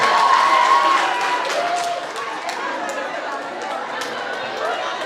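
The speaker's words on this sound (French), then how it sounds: "Applaudissez encore pour Benjamin." Crowd at a Festi-Village rap conference applauds Benjamin, a dense wash of clapping mixed with murmuring chatter that is loudest at the start and eases to a steadier level.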